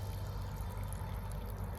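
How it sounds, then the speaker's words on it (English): Trapped water drains out of a building's sprinkler pipe, a faint, steady trickle and pour over a low background hum, with no one speaking. "Look how much water is still coming out of this."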